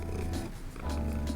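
A cat purrs during a massage, a close, low, continuous rumbling purr with a rhythmic rise and fall across each breath.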